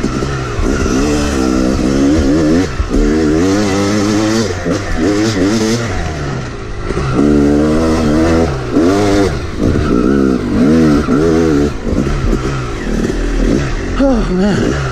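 Two dirt bikes, a Kawasaki KLX 140L and a Yamaha YZ 250, race on a dirt track with loud, close engines revving and shifting continuously, pitch rising and falling as they accelerate.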